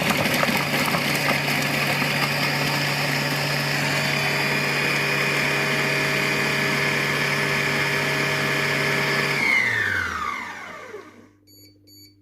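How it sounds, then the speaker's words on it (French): A Compact Cook Pro food processor chops two garlic cloves on its chop program, a steady loud motor whir holding for about ten seconds before spinning down and stopping, leaving near silence. "Et je vais mettre le programme haché"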